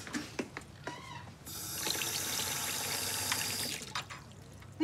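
Shower water runs steadily from a household shower in a British home, a loud continuous hiss starting partway in and cutting off near the end, framed by short clattering sounds.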